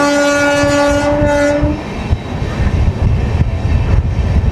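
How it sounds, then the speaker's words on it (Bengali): Amrit Bharat train entering Khurda Road junction, a loud sustained horn blast for under two seconds, then the heavy rumble and clatter of rolling wheels from on board. "আমাদের ট্রেন প্রবেশ করছে প্রায় খুর্দা রোড জাংশনে।"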